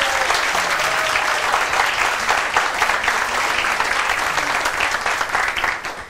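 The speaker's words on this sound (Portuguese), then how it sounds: "Palmas também pra galera do Cipate de Tec que tá por aqui" A crowd at a live show in Marília applauds loudly and continuously, a thick wash of clapping that stays strong throughout and fades slightly at the end.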